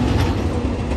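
A heavy BNSF freight train rumbles steadily past close by on a main track, a continuous low roar with faint rattling and no voices.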